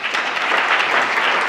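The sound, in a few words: audience applause at an award ceremony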